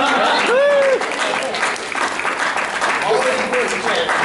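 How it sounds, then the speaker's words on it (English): A live comedy audience breaks into applause, a broad wash of clapping that swells then thins, with a voice briefly calling out over it. "The fact that you felt the need to applaud that."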